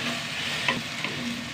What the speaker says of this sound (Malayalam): നല്ല വഴറ്റിയെടുക്കണം.